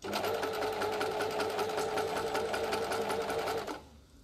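A Janome sewing machine fitted with a fine hem presser foot stitches steadily at a loud, even whirr with a fast repeating needle beat, running alone for most of the clip before stopping abruptly near the end.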